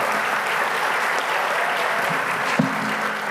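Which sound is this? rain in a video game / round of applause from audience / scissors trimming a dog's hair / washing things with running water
round of applause from audience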